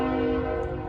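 A loud, sustained train horn blares steadily from a passing train, its layered tones holding for the full second without a break.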